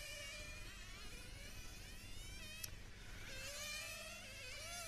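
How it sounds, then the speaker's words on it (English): High, buzzing whine of a nitro-powered 1/10th scale RC car engine running very lean at a track racing event, its wavering pitch sweeping up and down continuously over a steady background roar. "I think I just heard a car running very lean"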